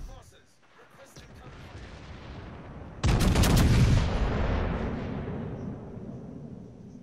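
Naval gunfire in World of Warships: a low rumble builds, then a sudden heavy cannon salvo booms out and rolls away into a long fading roar, with no one talking over it.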